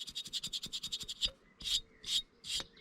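Rubbing and scrubbing an oxidized Honda 150 RXF motorcycle engine, first a fast rhythmic series of short abrasive strokes, then three slower, longer scrapes, close up with no talk.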